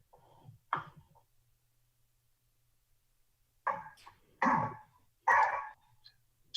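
A dog barks a few times in a sharp burst after a pause, fairly close, during a remote council meeting, with a faint cough or sneeze-like sound near the start.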